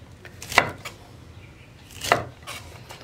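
Knife chopping yardlong beans on a board: two sharp, distinct chops about one and a half seconds apart, with faint lighter taps between them in a quiet room.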